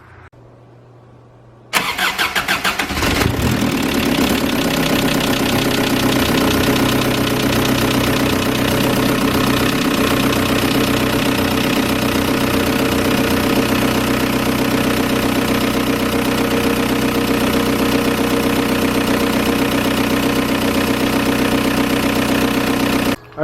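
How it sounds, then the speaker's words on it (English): A Volkswagen TDI diesel engine idling steadily during a fuel-system purge, starting up and settling into a loud, continuous clattering diesel idle close by, with no voices. "Now we can fire it up and just let it run and kind of vary the idle"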